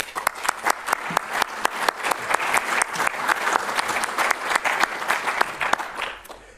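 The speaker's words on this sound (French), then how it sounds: "ils méritent vos applaudissements collectifs" A seated audience applauds the research team at the launch and inauguration of a French research programme, steady dense clapping that fills the whole stretch and tapers off near the end.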